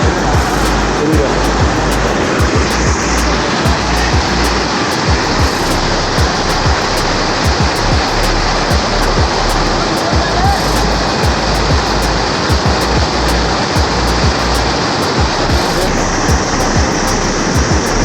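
Devkund waterfall sends down a loud, unbroken roar of rushing water that fills the whole stretch evenly, heavy and close throughout.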